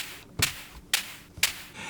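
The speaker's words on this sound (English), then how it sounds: "first you got the claps of oscillator 1 and then you got the reverb of oscillator 2" Three synthesized claps built in Ableton Live's Analog instrument, each a bright, crisp snap followed by a washy reverb tail, spaced about half a second apart, alone with no voices.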